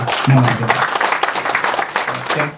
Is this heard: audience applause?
yes